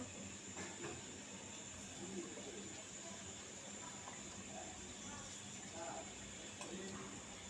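Pieces of pointed gourd (potol) sizzle steadily in hot oil in a pan, a continuous close hiss with small crackles throughout and a voice heard at times.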